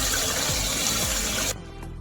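Warm water runs from a kitchen tap in a steady, close splashing stream for about a second and a half, then cuts off into quiet.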